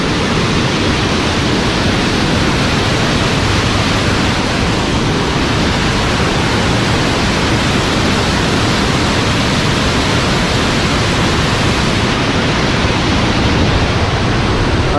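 Water pouring over a tank's surplus weir, a loud continuous rushing roar that stays steady and alone the whole time.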